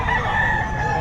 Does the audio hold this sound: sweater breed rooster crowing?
yes